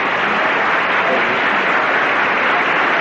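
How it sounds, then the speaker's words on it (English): Studio audience on a 1974 television game show applauds in a steady, dense wash of clapping that fills the whole moment without a break. "We got to give them some applause,"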